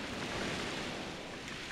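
Ocean waves in Paper Mario: The Thousand Year Door, a broad steady wash of surf noise, soft and continuous for a brief moment with no talking.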